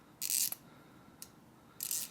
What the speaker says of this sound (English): It didn't break the mechanism, as you guys can hear, still working.